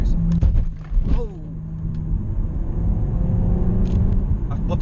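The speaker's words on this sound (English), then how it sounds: "I've bottomed out the suspension definitely there" A BMW M135i with the N55 engine bottoms out its suspension on a Peak District road: a loud low thump and rumble heard from inside the cabin, followed by steady engine and road noise.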